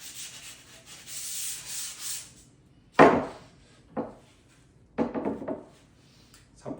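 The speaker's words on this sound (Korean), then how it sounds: "가벼운 사포만 보여드리겠습니다" A few short, scratchy rubbing strokes of light sandpaper along the grain of a wooden stool, separated by pauses, fairly quiet and close.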